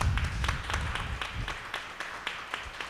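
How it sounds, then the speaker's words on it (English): An audience at a board candidate forum claps steadily for about three seconds, the claps sharp and evenly spaced, gradually thinning out. "Let's give our candidates a round of applause."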